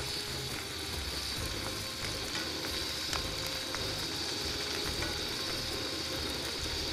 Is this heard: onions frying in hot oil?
yes